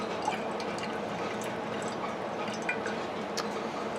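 Elderberry liquid draining and dripping into a container, soft scattered drips over a faint continuous trickle, quiet and close.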